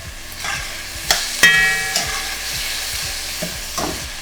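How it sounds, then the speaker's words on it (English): Tomatoes with salt mashed and stirred with the side of a spoon in a sizzling pan, a soft steady sizzle broken by several sharp scraping and tapping knocks of the spoon against the pan, close and alone. "I'm just going to use the side of my spoon to kind of help break this down"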